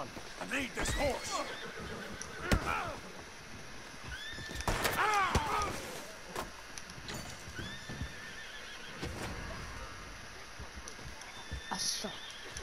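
Several clear horse whinnies rise and fall in a video game, mixed with hoof clip-clops, scattered sharp hits and voices talking.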